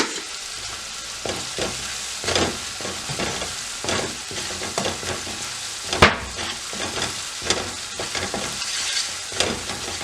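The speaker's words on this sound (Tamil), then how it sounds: "இது நல்லா எண்ணெயில் பொரிஞ்சு திரண்டு வர நாங்கள் இதை ஓப்பன் பண்ணுவோம்." A sweetened sauce for fried chicken wings bubbles and fries in oil in a pan, crackling steadily while a spoon stirs and scrapes in uneven strokes, with one sharp clatter partway through.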